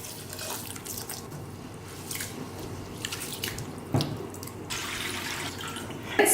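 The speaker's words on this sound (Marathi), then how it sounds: "हे स्वच्छ पहिला 2-3दा पाण्यातून धुवून घेऊया।" Fenugreek seeds are washed in water in a bowl, with close swishing, dripping and a splash from running water as they are rinsed two or three times, in a quiet kitchen with no talk.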